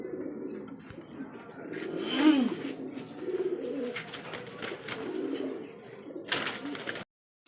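Fancy pigeons, Lahori, Beauty King and Bombay breeds, coo softly and repeatedly at close range, with low rolling calls rising and falling over about seven seconds before a brief silence.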